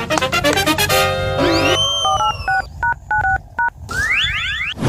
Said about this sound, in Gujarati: લે એમ કરું, એને ફોન કરું.